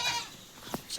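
Short, high bleats from young goat kids, including a Beetal cross, sound close by, a couple of quick calls within a second.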